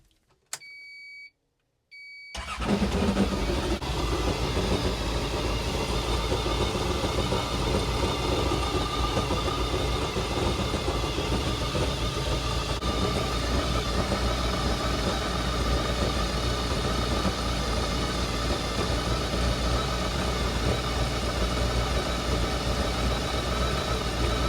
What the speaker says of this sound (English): turn on the engine, turn on our pump.